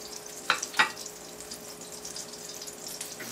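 Butter melts in a pan ahead of frying onions, giving a soft, steady sizzle with two quick crackling pops near the start before it settles into a quiet, even hiss.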